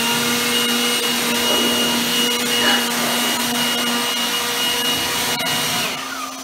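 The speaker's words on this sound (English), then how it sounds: "Turn off the spindle," Router spindle on a new 4x8 CNC machine running steadily: a loud, constant high-pitched whine and hum with a slight grinding texture, close by, tapering off at the very end.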